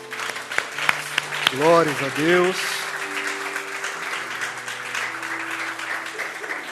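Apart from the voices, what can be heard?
audience applause in church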